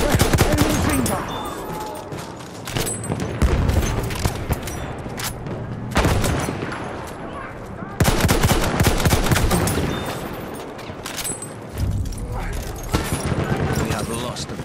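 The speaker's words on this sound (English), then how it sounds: "Enemy machine gun." Sustained machine gun fire rattles through a chaotic Battlefield 1 infantry battle, dense bursts of gunshots with booms and shouting voices mixed in, loud and nearly continuous.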